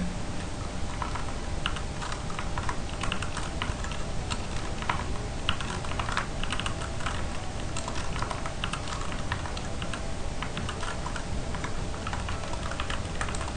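Steady, fast keystrokes on a computer keyboard as a file name is typed, a dense continuous clatter of key presses close by with no speech over it.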